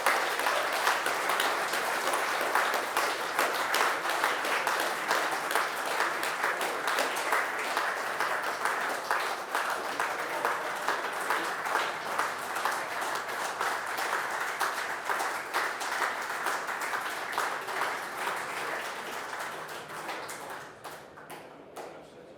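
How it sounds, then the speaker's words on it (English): A seminar audience gives an award winner a long, sustained round of applause, with dense steady clapping throughout that thins slightly near the end. "giving him a rapturous round of applause for winning the Gottelier Award"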